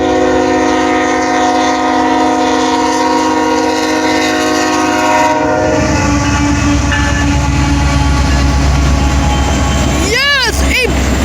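A Norfolk Southern train rolls slowly past a road crossing on Pemberville Road, with loud rumbling and rattling railcars and sustained horn blasts, then a short burst of horn notes near the end; voices speak nearby.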